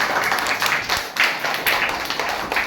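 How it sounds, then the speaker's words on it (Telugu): Audience applause rings out at a charity gathering where a service society for disabled people hands out books to children, a dense, steady clatter of many hands clapping that rises and falls in waves for a few seconds. "మన అందరం కూడా గట్టిగా చప్పట్లతో మనం అభినందించాల్సిన విషయం"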